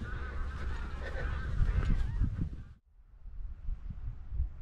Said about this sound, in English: More geese making a racket.